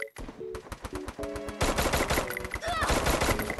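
Rapid bursts of automatic gunfire in the Garena Free Fire battle game, loud and close, with sharp repeated shots that start sparse and then merge into a dense continuous barrage.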